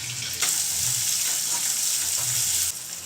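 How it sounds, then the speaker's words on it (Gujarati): A medium onion sautés in hot tempered oil for a samosa filling, giving a loud, steady, close frying sizzle that starts abruptly and eases slightly near the end, with no speech. "હવે આપણી ડુંગળી સંતળાય છે"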